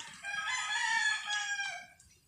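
A rooster crows once, loud and close, a single drawn-out call lasting about two seconds, with no talking.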